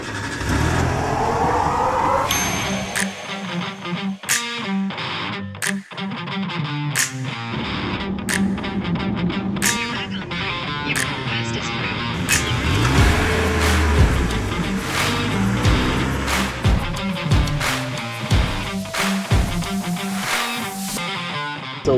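A car drives along a road in Iceland on the way to a geyser, its engine a steady drone with a slowly rising pitch, overlaid by sharp clicks and bumps throughout.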